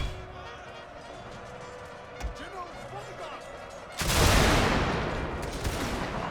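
Gunfire volley in a video game battle, a dense crackling fusillade bursting out loud after a stretch of quieter battlefield ambience and scattered shots.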